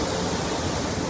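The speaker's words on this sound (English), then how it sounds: "Bye Habuz waterfall." Habuz waterfall on a hiking trail, a steady broadband rush of falling water that fills the short moment evenly and loudly, with no voices over it.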